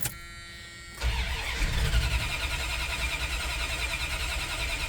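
A Dodge Ramcharger with a carburetor emptied by heat cranks over after a brief whine, the starter churning loudly and continuously up close with a rough, uneven engine rhythm, no talking.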